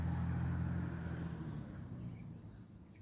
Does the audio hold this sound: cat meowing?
no